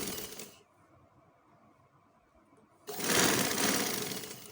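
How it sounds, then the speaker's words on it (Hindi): A sewing machine runs in two bursts while stitching the back seam of a kameez sleeve, a loud whirring run, a quiet pause, then a longer steady stretch of stitching. "ये मैं बैक साइड की सिलाई लगा रही हूँ।"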